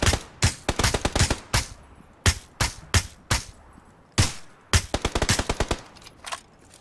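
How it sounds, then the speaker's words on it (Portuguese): Rapid bursts of automatic gunfire in PUBG Battlegrounds, loud and close, firing in repeated clusters of quick shots with short pauses between them and no talking. "Vamos atirar?"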